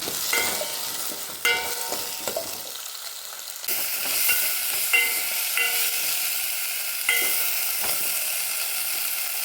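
Potatoes and tomato frying in a pan: a steady sizzle with intermittent scraping stir strokes, close and moderately loud, with the hiss growing brighter midway.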